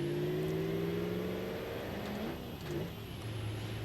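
Diesel car engine in the BeamNG driving game, a steady loud drone with strong low harmonics that dip and shift mid-clip, as with a gear change, then settle again.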